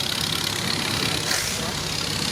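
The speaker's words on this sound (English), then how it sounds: "Marvellous strength of a little tractor." A small vintage tractor, a little 2120 with a downswept exhaust, runs at a steady, close engine drone with no change in pace and nobody talking over it.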